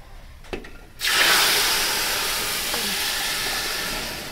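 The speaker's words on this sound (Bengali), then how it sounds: "এবার আমরা এর ভিতরে গরম জলটা দিয়ে দেব।" Hot water poured into Gobindobhog rice for mutton biryani starts after about a second as a sudden loud, broad rushing hiss and then holds steady and close, with a few faint knocks before it and no talk.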